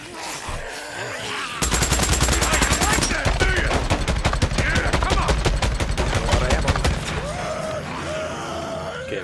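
Sustained automatic gunfire in the Days Gone video game during a horde fight, a long rapid burst of evenly spaced shots, loud and close, with a voice before and after.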